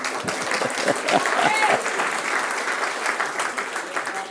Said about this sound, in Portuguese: Dá um aplauso para eles, pelo menos, irmão